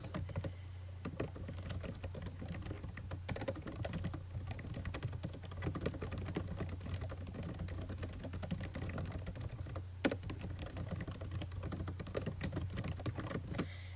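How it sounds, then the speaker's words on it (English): Quiet, steady typing on a computer keyboard while someone writes an email question, a continuous patter of soft key clicks with one slightly louder tap, no voices. "So now Sally can type to her instructor the questions she has."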